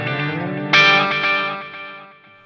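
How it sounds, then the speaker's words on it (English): An electric guitar runs through a delay effect on a Line 6 Helix LT, a sustained chord joined by a bright struck note whose echoes repeat and fade away over a couple of seconds, played alone. "okay, so we're going to use that delay there."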